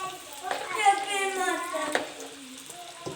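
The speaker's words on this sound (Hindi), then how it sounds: "जनाब, आप देख सकते हैं कढ़ाई में हमारे जो हैं रोल वो मैंने डाल दिए हैं। बस ये फ्राई हो रहे हैं।" Chicken vegetable rolls deep fry in a wok of oil with a soft, bubbling sizzle, while someone talks over it throughout.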